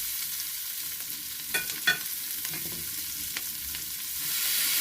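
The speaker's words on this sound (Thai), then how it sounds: "เราก็จะใส่ถั่วลันเตาลงไปผัดก่อนค่ะ แล้วก็ใส่เห็ดลงไปค่ะ" Snow peas and mushrooms stir-fry in a hot pan, a steady hiss of frying with a few sharp scraping clatters of the spatula near the start, close and moderately loud, no voices.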